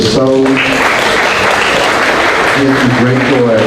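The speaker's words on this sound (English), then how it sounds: "Parents, please clap for these people." Parents at a school special programs meet-and-greet give a round of applause, a wash of clapping between stretches of a speaker's voice at the start and the end.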